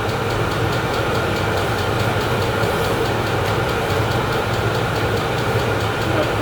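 A VEVOR diesel heater runs on its first start-up with a steady, unbroken mechanical hum and low rumble, close and fairly loud throughout.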